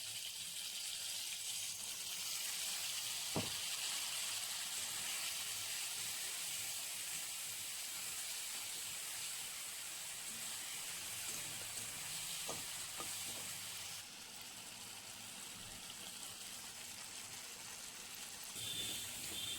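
Spices with turmeric and chilli powder fry in a pan for a pointed gourd (potol) dish, giving a steady, moderately loud sizzle and hiss throughout, with a few brief stirring clicks and no talking.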